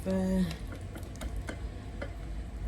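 Food is stirred and mixed in a dish, a spoon tapping and scraping in irregular clicks. A brief tone sounds at the start and a steady low hum runs underneath.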